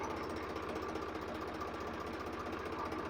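An old Swaraj diesel tractor engine idles steadily nearby, its low rhythmic knocking chug constant throughout.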